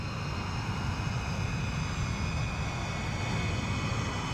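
Tupolev Tu-16 Badger jet engines in the X-Plane flight simulator game, a steady, even roar with a high whine layered on top, continuous and unchanging, no speech.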